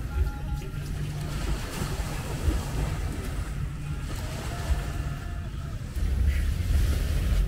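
Sea waves at a beach in Dubai, a continuous rushing wash mixed with wind buffeting the microphone, swelling louder toward the end.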